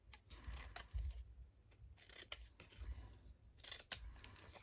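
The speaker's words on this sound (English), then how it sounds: "I'd like to snip the corners off." Scissors snip the corners off a paper library card pocket in a quiet craft room: several soft, close, crisp cuts in an uneven rhythm, with no talking.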